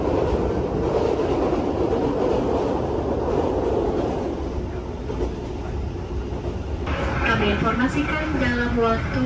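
Argo Wilis passenger train rolling onto the twin Kali Progo railway bridge near Yogyakarta, a steady loud rail rumble with wheel clatter, then a sharper metallic ringing as it crosses the bridge, with voices talking over it.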